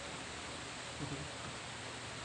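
Steady rain falling on a Sunday, a continuous broadband hiss from start to finish with no distinct drops, heard alone.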